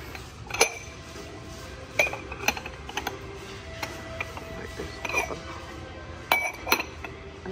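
Small glass baking pans clink and knock together as they are handled indoors, a few sharp, scattered impacts with quieter rattles between them.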